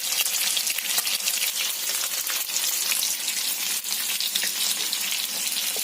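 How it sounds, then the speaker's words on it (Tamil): Masala-coated fish frying in hot oil in a pan, a loud, steady hiss and crackle that runs unbroken from start to finish, close up, with no talking. "மீன் பாருங்க, எண்ணெயில போட்டுட்டோம்."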